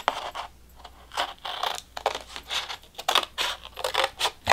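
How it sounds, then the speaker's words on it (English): Scissors snip through paper plates, cutting them in half with repeated crisp, scratchy cuts and rustling in a steady rhythm up close, with no voices. "So first we're gonna cut a few of these paper plates in half."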